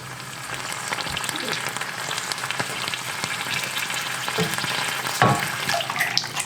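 Caramelized onions frying and sizzling in a skillet, a steady crackling hiss running throughout with occasional stirring clinks, fairly close and moderately loud.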